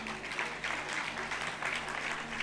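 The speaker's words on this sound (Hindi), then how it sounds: "तालियां बजा करके बताओ" An audience at a Jain religious discourse session claps steadily, a continuous even patter of many hands at moderate level with no pauses.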